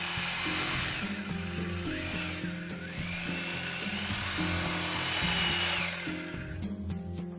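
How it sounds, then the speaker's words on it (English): A power drill bores holes into a wall for a water-heater mounting bracket, whining steadily and loudly close by, with the pitch shifting as it bites into the wall. "make holes in the wall using an appropriate drill bit"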